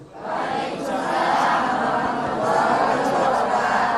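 A studio audience at an Indonesian Islamic religious program applauds for Ustadz Azhari Nasution, a continuous, loud crowd wash of clapping and cheering that swells and holds steady throughout.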